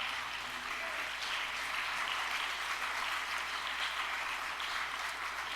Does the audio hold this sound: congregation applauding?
yes